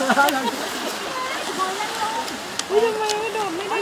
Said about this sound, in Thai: ทะเลค่ะ